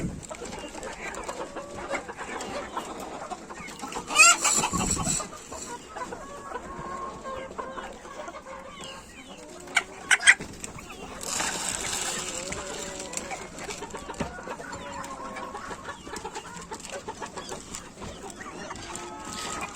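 Ornamental chickens and roosters cluck and call inside a coop, a busy mix of overlapping bird sounds throughout, with a brief louder flutter and occasional voices in the background.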